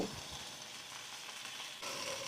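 Onion and tomato fry in hot oil for a jackfruit biryani, giving a steady, close crackling sizzle that swells slightly louder near the end, with no talking.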